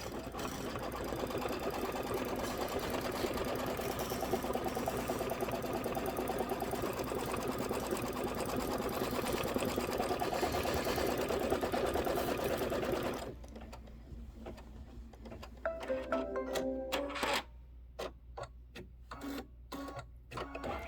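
A Kimberbell embroidery sewing machine runs a quilting stitch, a loud steady mechanical whir for most of the stretch, then stops and starts in short bursts and clicks near the end.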